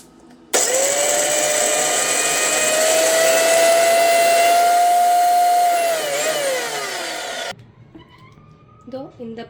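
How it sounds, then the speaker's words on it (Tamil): A kitchen mixer grinder jar whirring loudly as it grinds a cooked chicken masala of garlic and onion, a steady high motor whine running for several seconds before spinning down and stopping, followed by faint handling noises. "இப்போ வந்து இதை ஆறிச்சு நம்ம மிக்ஸி ஜாரில் போட்டு அரைச்சி எடுத்துக்கலாம்"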